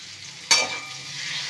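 A paste of ground mustard, poppy seed and green chili fries in a pan. One sharp stir-scrape lands near the start, then a soft, even sizzle carries on.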